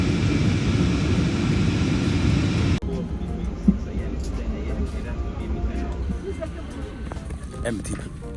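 An airliner taxis across an airfield toward the runway, its engines giving a steady, loud drone from inside the cabin that shifts partway through, with voices speaking over it.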